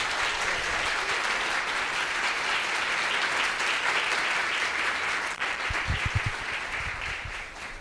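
Loud, sustained applause from a large church congregation, steady throughout before thinning into scattered claps near the end.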